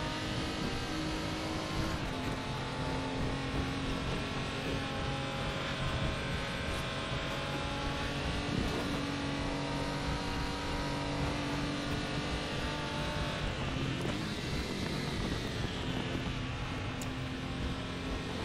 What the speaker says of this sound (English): I think it's like simulating the transmission warble going over bumps.